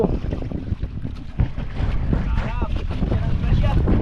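Strong wind buffets the microphone out on the sea aboard a small fishing boat, a rough continuous roar with waves and boat noise beneath, while someone talks over it.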